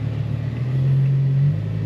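A Mercedes CLK55 engine idles low and steady while the car backs up, a close, droning hum that swells slightly midway through with no talk over it.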